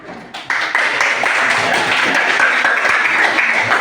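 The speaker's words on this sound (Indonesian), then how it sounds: "anak-anak sekalian tepuk tangan" Children in a classroom break into applause after group exercise, a loud, close burst of quick clapping that starts suddenly and continues evenly to the end.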